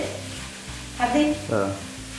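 Food sizzles and hisses in a hot pan, with a few brief scraping stirs rising above a steady low background.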